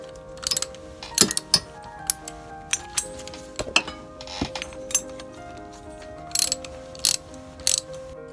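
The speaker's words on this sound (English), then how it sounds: "Now I'm about to get a socket with a cup and then tighten this up." Sharp metallic clicks and clinks from a socket ratchet tightening a bolt on a scooter, scattered irregular bursts close up over a quiet background, no talk.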